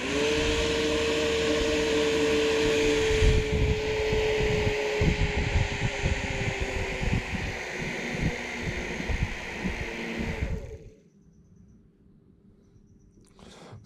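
A small 12V drill motor spins in reverse, pulling air through a car air filter: a steady whining hum with a falling tonal pitch and rattling buzz, running loud for about ten seconds before cutting off to near silence.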